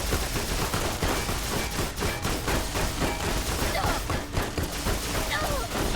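Rapid video-game gunfire rattles in dense, continuous bursts, close and loud, with scattered shots layered together and a voice talking faintly beneath.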